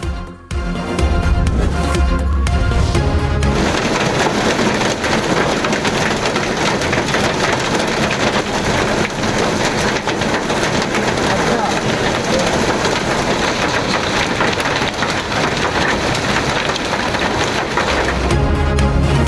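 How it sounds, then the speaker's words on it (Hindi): Heavy rain pouring steadily over a dense, roaring wash of noise with deep rumbling lows suggesting thunder, constant and loud for most of its length, with brief quieter passages at the start and end. "मुख्तलिफ इलाकों में गरज चमक के साथ बारिश ने मौसम सर्द कर दिया।"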